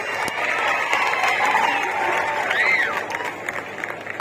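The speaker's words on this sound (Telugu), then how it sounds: "నిల్చొని క్లాప్స్ కొట్టాలి" Audience clapping at a motivational program, a steady wash of applause and crowd noise at moderate loudness with a faint voice cutting through near the end.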